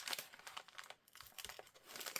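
Scissors cut paper along a drawn line while journal signatures are being prepared. Crisp, close snips and papery crinkles come quietly in an uneven rhythm, with no talk.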